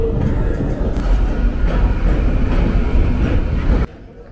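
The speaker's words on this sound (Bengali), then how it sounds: "পুরো পাক্কা 2:15-তে ট্রেনটা ছাড়লো, রাইট টাইমে ট্রেনটা ছাড়লো।" A passenger train on an overnight run in India gives a loud, continuous rumble and rattle of the carriage, with faint clicks, which cuts off abruptly near the end.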